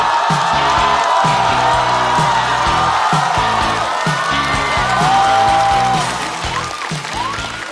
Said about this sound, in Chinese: 掌声欢迎高寒